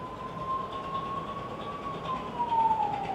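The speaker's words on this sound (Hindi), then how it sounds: "एम्बुलेंस का शोर हो रहा है।" An ambulance siren wails as one steady, continuous tone that drifts slowly lower in pitch, heard at moderate distance over a low background hum.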